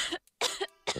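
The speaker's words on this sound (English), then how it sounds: "Coughing." Three sharp, close coughs come in quick succession, each a brief harsh burst with short silences between.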